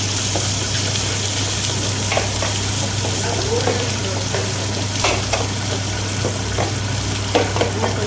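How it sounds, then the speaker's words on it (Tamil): Keerai greens sautéing in a pan, a loud, close, continuous sizzle with scattered crackles and occasional stirring scrapes, with no talking. "நல்லா இப்போ கொஞ்ச நேரம் வதங்கணும்."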